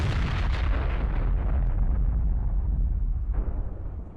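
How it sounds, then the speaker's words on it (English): A deep, rumbling blast from a drone strike on a Russian military vehicle, a heavy low roar sustained for several seconds with a secondary crack partway through before fading. "The drone closes in on the target and there's another explosion."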